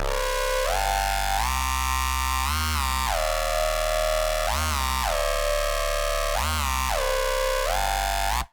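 A bright, buzzy synthesizer bounce patch from Native Instruments Massive bounces between notes in a repeating pattern, its pitch swooping up and down with each change.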